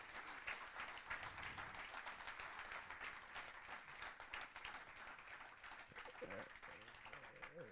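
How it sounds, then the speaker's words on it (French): Audience at a conference on Armenia, one year on, applauding its four speakers: dense, steady clapping at moderate distance filling the whole stretch, with some voices mixed in toward the end. "Je crois qu'on peut les applaudir."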